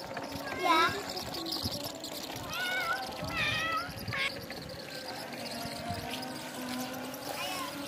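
A pregnant cat sits on the grass and meows several times, its cries clear and close, mixed with children's chatter and light outdoor background noise.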